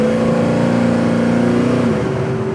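A 1965 Chevelle restomod's engine holds a loud, close, steady drone that climbs gradually in pitch, then drops as the transmission shifts on its own near the end.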